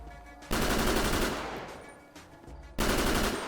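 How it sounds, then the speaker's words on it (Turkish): Automatic gunfire in GTA 5 during a police operation, loud rapid bursts of shots, the first running for about two seconds and fading, then a second burst starting abruptly. "Sıkıyor bak o da oradan sıkıyor"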